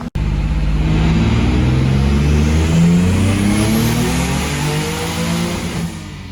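A boosted Nissan 300ZX with a turbocharged VQ35DE engine revs hard under load and holds a loud, sustained engine roar that rises in pitch and then eases off near the end. Nobody speaks.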